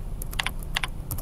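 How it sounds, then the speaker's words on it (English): Quick, crisp keystrokes on a computer keyboard in small bursts as an email address is entered, close and clear over a faint room hum. "So we're going to type in"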